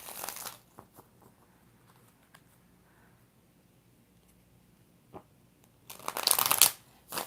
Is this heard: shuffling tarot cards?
yes